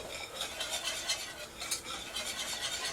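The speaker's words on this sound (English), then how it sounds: "You just want to stir it until everything gets combined." A spoon stirs oats in a pot over low heat, giving a close, rhythmic series of soft scraping swishes that repeat every fraction of a second.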